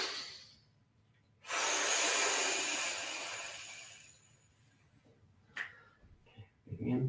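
One deep breath during a lung-channel stretch, a long airy inhale of roughly three seconds, close and breathy, with a faint snort and a brief voice at the end.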